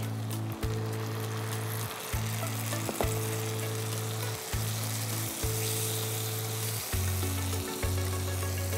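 Prawns sizzling and frying steadily in a pan as milk is poured in for a prawn malai curry, a continuous loud crackle with a low hum and small stirring bumps throughout.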